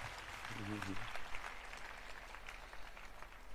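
A church congregation applauding in praise, with a continuous spread of clapping through a reverberant hall and voices and cheers mixed in.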